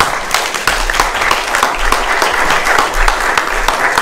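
A church congregation applauds steadily during a Presbyterian Sunday service, dense sustained clapping filling the room for the full stretch at a fairly loud level.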